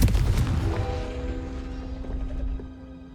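A Confringo spell blast in a Harry Potter video game opens with a loud booming burst, then fades into a ringing, humming decay over a few seconds, with no talk.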